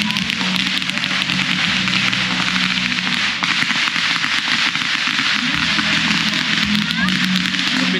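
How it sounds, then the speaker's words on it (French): Firecrackers pop and crackle at a Loy Krathong festival in Thailand, a dense run of sharp bangs over steady crowd noise and voices, with people talking nearby throughout. "Le pétard là-bas, regarde."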